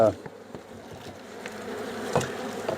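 Honeybees buzz steadily in an open horizontal hive being treated with Formic Pro for Varroa mites, a close, dense, continuous drone with no voices over it.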